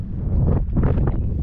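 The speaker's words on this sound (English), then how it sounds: "And the wind has picked up and it is getting chilly." Strong wind buffets a small crabbing boat on the water, a loud continuous roar and rumble pressing on the microphone for a moment with no talking.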